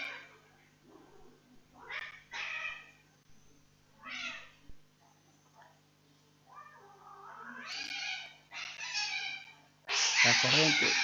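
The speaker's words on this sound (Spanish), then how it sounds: "Sí, un par de gatos que están jugando." A couple of cats playing in the background, giving a series of short meows and yowls spread across the clip, moderately faint, ending in a louder burst of noise.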